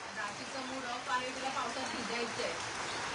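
Heavy rain falls steadily over a village, a dense, even hiss of drops that holds without a break from start to end, with soft voices faintly beneath it.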